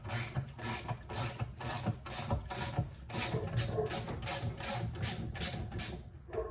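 A gear puller working on a part during a ZF6 transmission rebuild, giving a close, rhythmic series of sharp metallic ratchet clicks, roughly a dozen evenly paced strokes with brief grinding between them.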